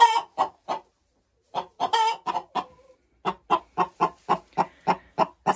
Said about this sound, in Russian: Вы видели такую курицу?